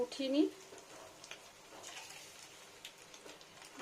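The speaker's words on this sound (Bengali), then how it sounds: "তেলটা ফুটছে" Chara pona fish coated in mint, garlic paste, salt, turmeric and chilli powder frying in bubbling hot oil, a faint steady crackle and sizzle that is loudest in the first half-second, then continues softly.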